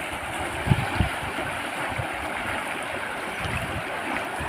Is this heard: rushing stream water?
yes